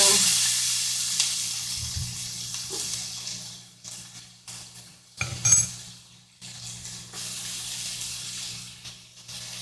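Onion sizzles in a hot oiled pan, a soft frying hiss that rises and fades between clinks of utensils against cookware, fairly quiet and close.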